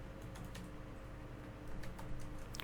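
Rapid keyboard typing on a computer keyboard while entering code, a steady stream of close, light clicks over a low room hum with no talking.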